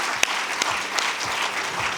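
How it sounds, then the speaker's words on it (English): Audience applause rising to a steady wash of many hands clapping, with one sharp louder clap near the start, heard at a moderate distance. "you can hear the applause in the background."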